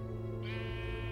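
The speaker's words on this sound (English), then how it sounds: "A sheep?" A sheep bleats in Minecraft: Story Mode, one short wavering bleat over a steady droning game music bed.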